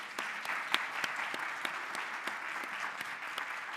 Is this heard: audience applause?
yes